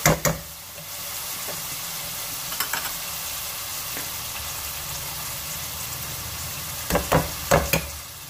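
Tomato paste is stirred into a curry frying in a pan, giving a steady close sizzle with a few scraping spoon strokes at the start and end.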